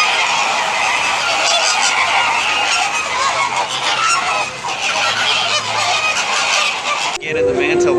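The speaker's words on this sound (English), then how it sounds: "Looks like the ducks want it too." Ducks and geese at SeaWorld call with steady honking and quacking from a flock, loud and continuous over a busy outdoor background, with a brief shift near the end.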